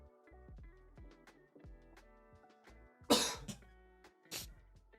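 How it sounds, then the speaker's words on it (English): A person coughs a couple of sharp times amid faint background music during a live fantasy football dynasty draft stream, close to the mic but brief. "Stop coughing, dude."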